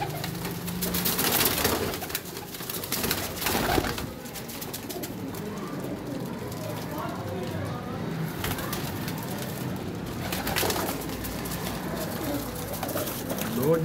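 Racing and breeder pigeons in a loft in Faisalabad, Pakistan, coo continuously in soft, overlapping, throaty calls at moderate distance, with some rustling around them.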